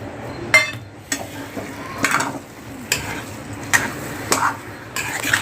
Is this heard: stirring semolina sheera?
yes